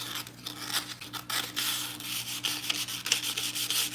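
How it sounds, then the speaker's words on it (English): Sandpaper rubbed back and forth along freshly cut edges to smooth off the excess, a steady close, raspy scraping in quick irregular strokes with no talking. "A little sandpaper here, rubbing on the edges."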